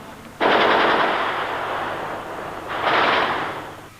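Two bursts of rapid automatic gunfire during the 1990-1991 Gulf War, recorded from a TV news broadcast, the first long and sustained, the second shorter, roaring loud as a continuous rattling blast.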